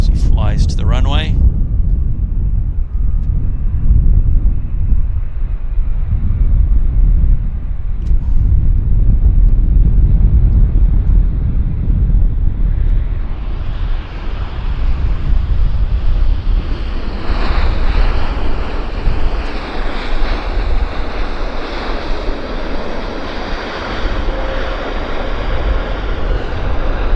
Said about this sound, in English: 861 from Heathrow landing.